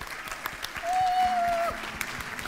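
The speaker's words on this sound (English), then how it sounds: "they really deserve a big round of applause for all they've done" Audience applause at an angel investor awards ceremony in Turkey, a steady wash of many hands clapping at moderate distance, with a sustained tone briefly sounding over it midway.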